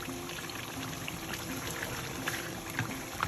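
Meat and bottle gourd simmer in the water they have released in a cooking pot, giving a soft, continuous bubbling and sizzling hiss with faint crackles, steady and close, with no voices.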